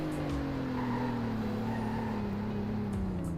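Car in Roblox Greenville braking hard at the bottom of a hill, engine tone falling smoothly and steadily under a constant road roar, with faint tire scrubbing near the end.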